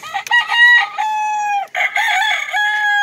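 A rooster crows loudly and close by, two drawn-out harmonic calls separated by a brief pause, heard alone with no talking.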